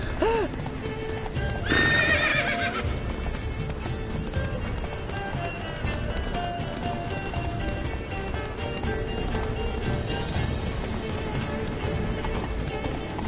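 Roach, the horse in The Witcher video game, gallops with fast, steady hoofbeats and gives a loud whinny early on, while game sounds and a low voice continue underneath.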